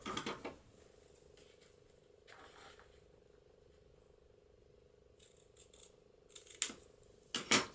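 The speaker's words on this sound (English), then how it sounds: "I'm just going to cut that one, turn it over and cut the same off the bottom here." Scissors snip the corners off a paper folio in two short bursts, one at the start and a pair near the end, close and crisp, with a quiet hum running underneath.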